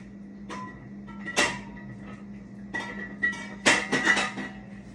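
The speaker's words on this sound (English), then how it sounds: "going to have to move all of my oils off of my counter here" Bottles of soapmaking oils being moved off a kitchen counter, giving several separate knocks and clinks of containers set down and slid, close by over a low steady hum.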